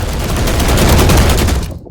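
Rifle gunfire from The Last Caretaker video game comes as a loud, rapid burst of shots packed close together, ending abruptly, with no talking over it.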